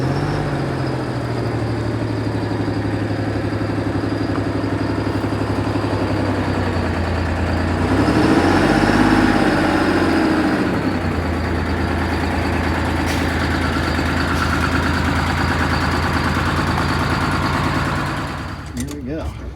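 A Detroit Diesel 6V71 engine in an MCI 5C coach idles steadily with a deep, even low rumble, swelling briefly midway as if revved, close and continuous throughout.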